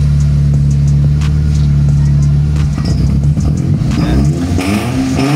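Mitsubishi Lancer engine with a misfire and low power idling unsteadily around 1,400 RPM, a loud close low hum that starts steady, then turns rough and uneven, with someone talking over it.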